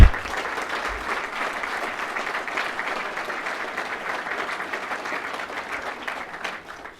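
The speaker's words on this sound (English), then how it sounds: "How about a big applause for the family, friends," Sustained applause from a large audience at a recruit class graduation ceremony, a dense, steady wash of many hands clapping for the full stretch, loud and even before tapering slightly at the end.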